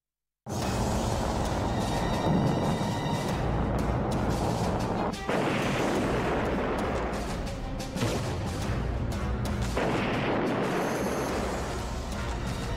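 Missile strikes and explosions at sea in the Black Sea war, a dense, loud, continuous roar of blasts and rumbling with sharp bursts around the middle and later on, no talking.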